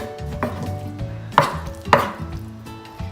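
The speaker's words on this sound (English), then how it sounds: "let me cut up these pieces and start chopping them" A knife chopping pieces of chicken breast on a cutting board, giving a few sharp, separate thuds at close range in a quiet home kitchen.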